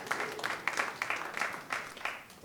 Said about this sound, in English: Give yourselves a round of applause for looking amazing.